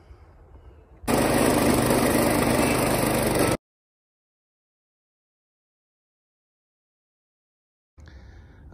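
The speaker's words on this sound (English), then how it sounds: "The first thing we need to do is grind that stump down right there" A stump grinder chews down a tree stump in a yard, a loud, harsh engine-driven roar lasting a few seconds before cutting off abruptly, with quieter background sound on either side.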